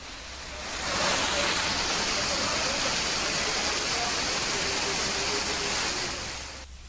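Heavy monsoon rain pours in a loud, dense, steady rush that swells in and fades out, with no voices over it.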